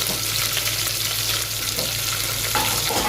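Onion, garlic, chili and curry leaves frying in hot oil, with a loud, steady sizzle and occasional stirring scrapes, close and continuous without speech.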